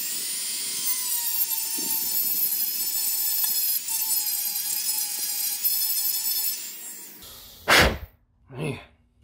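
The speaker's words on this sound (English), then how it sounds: "So I've got to sand around here using my handy dandy Dremel." A high-pitched Dremel rotary tool whines steadily for several seconds, sanding against material, then stops; two short bursts of noise follow.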